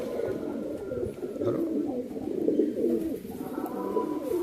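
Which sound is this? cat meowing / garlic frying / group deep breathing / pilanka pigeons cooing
pilanka pigeons cooing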